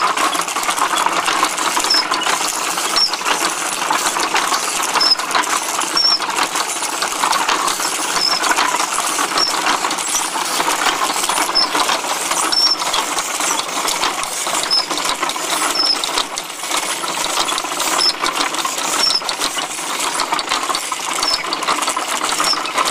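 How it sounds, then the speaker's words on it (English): A hand-cranked wooden machine built around a single crank driving chains and sprockets runs steadily throughout, a dense continuous ratcheting, clicking mechanical clatter at close range with no talk. "it all works off of one crank. Yep. One crank, chains, sprockets"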